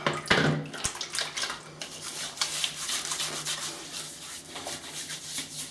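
A shaving brush swirls wet Chiseled Face Ghost Town Barber soap into lather in a bowl, giving a steady close-up squelching and rubbing with brief louder scrapes near the start.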